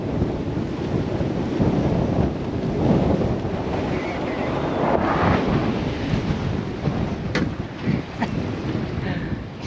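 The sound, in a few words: strong gusty wind blowing over a moored boat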